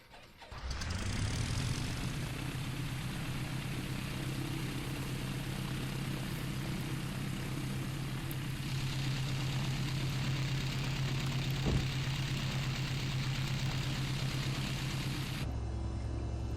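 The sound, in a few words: light aircraft engine starting, flight simulator game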